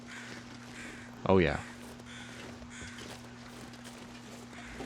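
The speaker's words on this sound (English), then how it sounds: "these birds are way too close to up here" A single crow caw rings out nearby in The Long Dark, a brief loud call over steady ambient wind, with someone speaking briefly.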